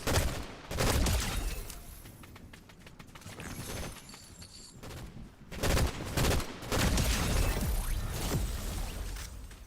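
Gunfire in the Fortnite video game, rapid crackling bursts and shots in two dense volleys separated by quieter rattling game noise, with no talking.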